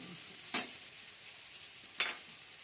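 Fried eggplant in a pan of oil sizzles quietly, with two sharp scraping stir strokes cutting through the faint steady hiss, heard close with no voices.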